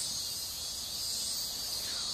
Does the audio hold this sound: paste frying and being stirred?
no